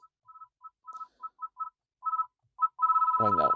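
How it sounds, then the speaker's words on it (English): Electronic ringtone of a Suzuki S-Cross car phone at loudest volume beeps in a repeating pattern of short tones, then a sustained louder tone with buzzing at the end, close and clear. "it controls how loud your car rings when you receive an incoming call"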